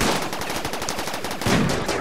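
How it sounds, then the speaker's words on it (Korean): Rapid automatic turret fire in RimWorld, a dense continuous stream of loud gunshots packed tightly together with no pauses, with a slightly heavier burst near the end. "포탑에 전력 들어왔어요"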